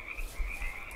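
Frogs croak steadily in Ultimate Fishing Simulator, a continuous chorus of trilling calls held over a low ambient rumble, with no voices.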